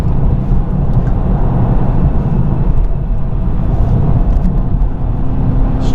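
A car drives a winding road through corners, giving a steady, loud in-cabin rumble of engine and tyre noise that stays even and low throughout with no clear revs or voices.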